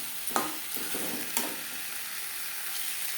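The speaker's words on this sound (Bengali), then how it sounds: "মশলার সাথে আলু বেশ ভালো করে মিক্স করে দেবো" Fried potatoes stirred into spice masala in a hot pan for aloo dum, a steady close sizzle broken by a couple of scraping spatula strokes early on, with no talking.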